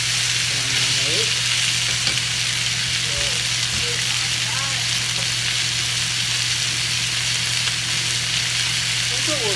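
Chicken frying in a pan for a chicken pesto dish gives a steady, close broadband sizzle that lasts throughout, with a low constant hum beneath and a few faint background sounds.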